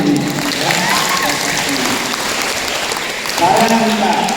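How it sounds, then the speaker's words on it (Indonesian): Audience applause at a school orientation assembly, a steady crowd clapping that carries through the whole stretch and swells again near the end, with voices mixed in. "Tepuk tangan untuk ini"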